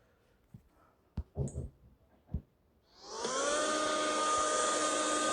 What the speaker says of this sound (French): l'aspirateur, c'est pour faire le ménage